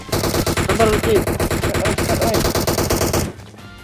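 Rapid automatic gunfire rattles in PUBG Mobile, dense continuous bursts of shots ringing out loud and close for over three seconds before cutting off abruptly.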